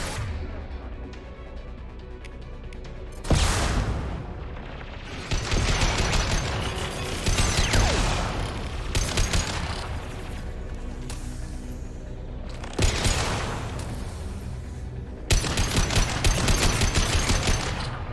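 A hacked turret firing in the Mass Effect 2 video game, loud bursts of automatic fire that repeat across the stretch with mechanical clatter between them, under a synthetic voice.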